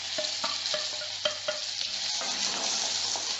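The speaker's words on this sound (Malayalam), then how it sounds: "ഇതിലേക്ക് നമുക്ക് ഈ സവോള ഇട്ട് കൊടുക്കാം." Sliced onion goes into hot oil with popping mustard seeds for a Kerala tapioca dish, a dense continuous sizzle with several sharp clicks and pops early on, close and loud with no speech.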